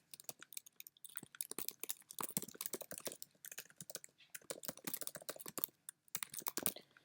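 Someone types on a computer keyboard in quick, irregular bursts of crisp key clicks, close and clear, with short pauses between runs and no speech.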